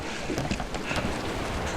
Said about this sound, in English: paddling into the jaws of an oncoming storm